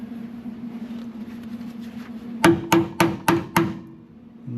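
Five sharp metallic hammer strikes on the rusted passenger floor pan of a 1970 Pontiac GTO ring out in quick, steady succession over a low background hum, then the hum carries on alone.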